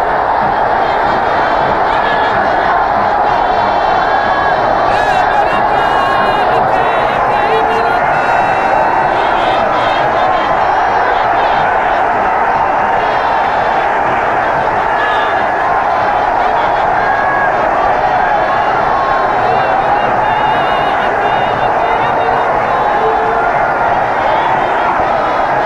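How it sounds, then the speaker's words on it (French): A vast crowd at the 28 September stadium roars and applauds without a break, a dense and loud wash of cheering that fills the whole stretch as the players walk out onto the field. "Entre au stade du 28 septembre sous les acclamations du public."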